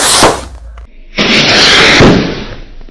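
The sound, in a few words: large blue Dragon Rocket firework going off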